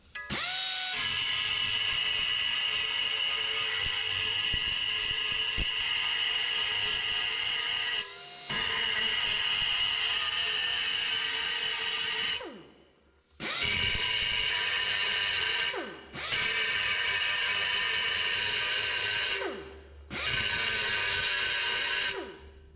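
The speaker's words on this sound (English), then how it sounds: "I'm going to take this grinding wheel first and remove a couple of welds," A grinding wheel cuts away spot welds on sheet metal, droning loud and steady in long continuous bursts with short pauses and brief dips between passes, and no talking.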